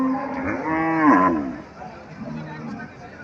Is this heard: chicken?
no